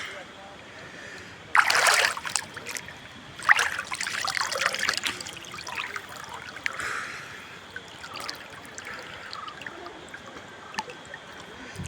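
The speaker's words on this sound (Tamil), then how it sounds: "ஃபுல்லாகவே ஓரளவுக்கு தண்ணி வந்துட்டுருக்கு, கம்மியாக." Gentle river water in Kerala trickles and babbles steadily, with a few louder splashy bursts near the start; people talk in the background.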